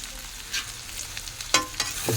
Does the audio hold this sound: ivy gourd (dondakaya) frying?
yes